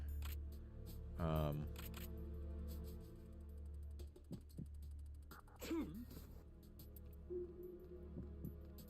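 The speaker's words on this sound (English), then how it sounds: "They have me sneeze?" A game character sneezes in Metal Gear Solid 2, one short sneeze near the start over a low steady hum, with a few faint game effects afterward.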